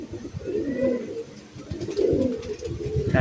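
Pigeons, including a young bird, coo in low, rolling bursts close by in a Malwai Punjabi pigeon loft, a soft throaty murmur repeating over faint background noise.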